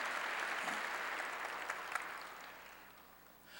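A church congregation claps together in a steady burst that swells and then fades away, distant and fairly quiet.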